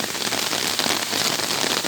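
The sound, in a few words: heavy rain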